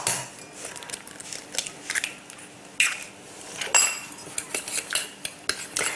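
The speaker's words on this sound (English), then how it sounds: "just mix them together until the sugar almost dissolves into the egg" Whisk or utensil clinking and scraping against a bowl while a quarter cup of caster sugar is beaten with one egg, giving a steady run of close, bright taps and clatters with no talking.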